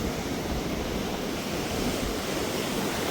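The flooded Ib river near Kunkuri in Jashpur rushes past in a dense, steady roar of turbulent water, loud and continuous throughout with no voices.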